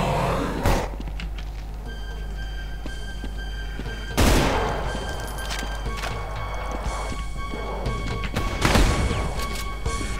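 Gunfire in Extermination Day, a tactical survival horror game built on Brutal Doom: three loud, sharp bursts a few seconds apart stand out over a steady background hum and drawn-out electronic tones.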